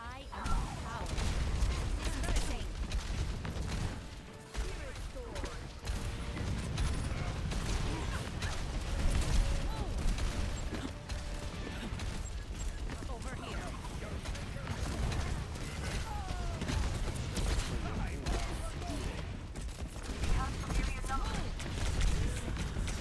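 Rapid turret gunfire in Overwatch 2 rattles on steadily amid dense, busy combat noise, with voices talking over it throughout.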